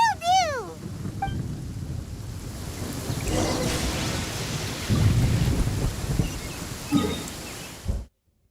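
Rain and thunder in the Genshin Impact video game: steady rain hiss with heavy low rumbling thunder rolling through, a few brief tonal game sounds at the start, ending abruptly.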